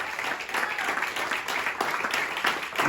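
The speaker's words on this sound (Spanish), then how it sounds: "Dele palmas al Señor, gloria a Dios" A church congregation claps for the Lord during a Spanish-language sermon on revival, a steady wash of many hands clapping without pause, loud and close.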